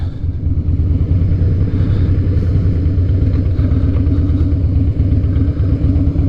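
2007 Harley Davidson Night Train motorcycle under way, its engine pulsing in a loud, continuous low throb with a dense rhythmic beat, heard close up with no one talking.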